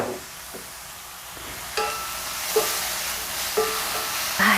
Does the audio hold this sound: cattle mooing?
no